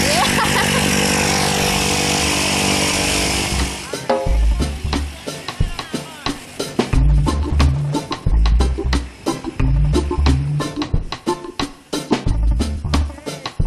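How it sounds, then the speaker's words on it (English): Skydiving aircraft engine running at a drop zone: a loud, steady droning roar close by for about four seconds, then giving way to choppy, buffeting bursts and clatter with voices briefly audible. "That's our airplane right there."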